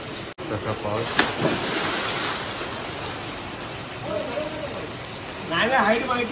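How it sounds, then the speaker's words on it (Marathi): Rain falls steadily at a seaside stay in Alibaug, a constant close hiss of drops spread across the scene, with a sharp knock near the start and voices talking over parts of it. "तर इकडे पाऊस चालू झालाय"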